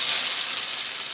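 Small tomatoes blister in a hot pan over high heat, giving a continuous bright, close sizzling hiss with no pause or speech.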